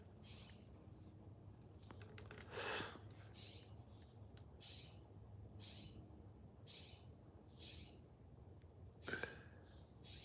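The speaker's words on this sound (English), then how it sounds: "you can hear some of the other birds." Outdoors, a bird gives soft, evenly spaced calls over faint background hiss, repeating about eight times at a steady rhythm, with a couple of brief louder rustles in between.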